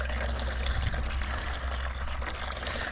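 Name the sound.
water poured into paint sprayer container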